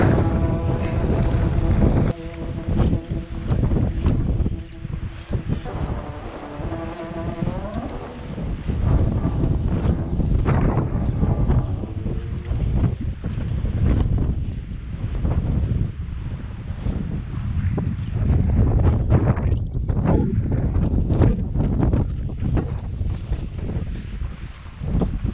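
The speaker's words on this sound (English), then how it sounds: "hit it just in time with some 20 knot winds. Right in our face coming northwest." A boat pushes northwest into a 20 knot headwind against the current, with loud, constant wind buffeting the microphone over the rumble of the hull and engine and the wash of choppy waves throughout.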